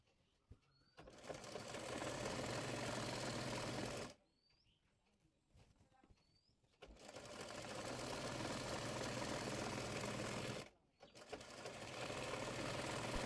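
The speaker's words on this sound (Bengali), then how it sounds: "অপর পাশের হাই থেকে প্লাজোটির মুহুরি পর্যন্ত সেলাই করে নেব।" Sewing machine stitching a seam on palazzo trousers from the high side down to the hem, running in two long steady bursts with a pause between and a brief restart at the end, close and clear with no talk.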